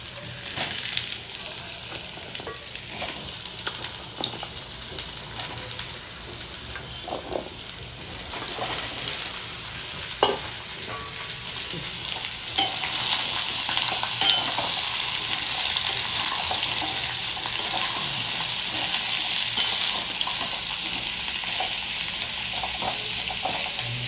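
Cucumbers sizzle in a hot pan with fried radhuni spice, a steady close frying hiss that gets louder and brighter partway through and stays busy to the end.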